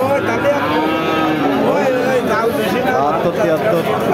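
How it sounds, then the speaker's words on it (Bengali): A Friesian cross cow lows repeatedly at a busy cattle market, its deep calls loud and close over steady crowd chatter and surrounding voices. "এটা মূলত ফ্রিজিয়ান কুরাস জাতের একটা গরু।"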